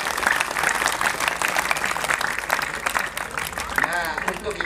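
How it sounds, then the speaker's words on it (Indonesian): Worshippers at a Javanese Hindu gathering clap together in a dense, sustained round of applause, with voices and crowd noise rising through it and a brief spoken voice near the end. "Tepuk tangannya."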